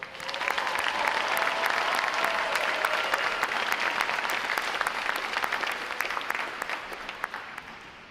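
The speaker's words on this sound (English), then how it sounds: "How about a round of applause for them, folks?" Audience applause at a U.S. Navy boot camp graduation ceremony, a sustained crowd clapping with scattered sharp claps that slowly fades toward the end.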